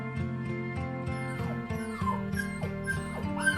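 A frightened dog whimpers during Diwali firecrackers, giving repeated high, thin whines over a steady musical background.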